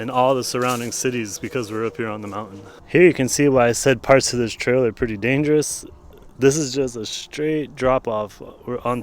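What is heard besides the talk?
No everyday noises stand out.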